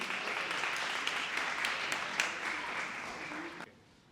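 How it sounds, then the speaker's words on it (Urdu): Audience applause greets someone speaker at a school debate assembly, a steady broad wash of many hands clapping for about three and a half seconds before fading out. "خیر مقدم کریں گے آپ سب، بھرپور تالیوں میں"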